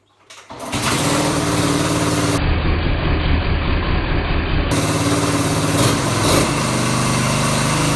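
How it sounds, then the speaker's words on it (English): A 1980 Yamaha XT250 motorcycle engine catches after a brief start and settles into a loud, close, steady running rattle with a small throttle blip late on. "So now I know the engine's running, the engine's fine"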